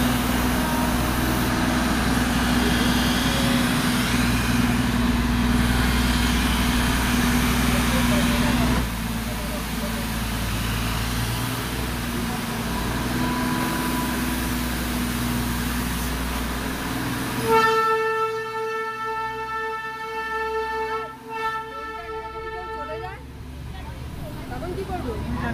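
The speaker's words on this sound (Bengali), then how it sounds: "আমরা ট্রেনে উঠে পড়েছি এবং আমাদের ট্রেন ছেড়ে দিয়েছে" Darjeeling toy train rumbling and clattering as it pulls away, engine noise steady and loud, then a long bright whistle or horn blast near the end, with people talking throughout.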